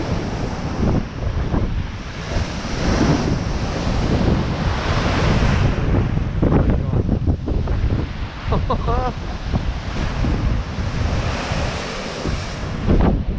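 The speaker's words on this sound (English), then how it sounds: "if you want to watch these waves here and it's a stormy day" Stormy seas crashing at Blackpool, with rough waves surging and breaking in continuous roaring bursts under heavy wind buffeting the microphone, close and loud throughout.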